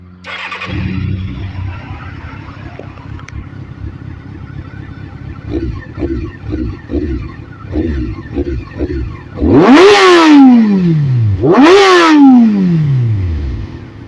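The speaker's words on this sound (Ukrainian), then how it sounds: "Мотоцикл заводиться з півобороту." Fuel-injected motorcycle engine firing up and settling into a lumpy idle with short blips, then two loud, sweeping revs that climb high and fall back, close to the microphone with no talking.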